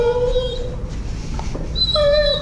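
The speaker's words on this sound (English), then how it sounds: "Oh Callie, why are you so squeaky?" A puppy squeaks and whimpers close by in a few thin, high, drawn-out whines, with a longer squeal near the end.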